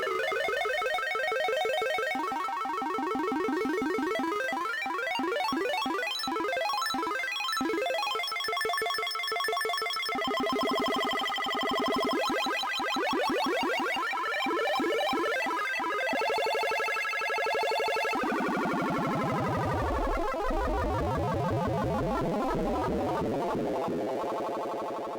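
Chiptune-style synth tones from Ableton Live's Drift synthesizer: bright, buzzy retro game-like notes in rapid arpeggio runs and pitch sweeps, with a deep downward-then-upward swoop near the end, loud and continuous with no talking.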